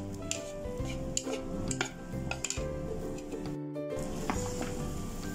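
A spoon clinks and scrapes against a pan while cut mango pickle is stirred, a run of sharp metallic knocks and rattles over a soft frying background.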